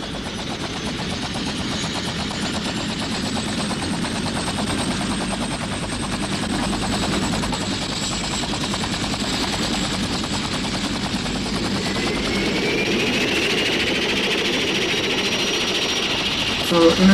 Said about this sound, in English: So in returning back, they're taking helicopters.